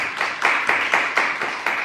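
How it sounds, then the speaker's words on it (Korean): Steady, evenly spaced hand claps from a church youth worship group, a quick rhythmic clapping that continues alone and fairly close for a couple of seconds. "우리 박수 한번 주실까?"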